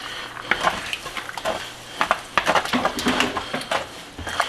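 A spoon stirs canned diced tomatoes in a pot for Swiss steak, making wet scraping, clinking knocks against the pot in irregular bursts, close and moderately loud, with a light sizzle beneath.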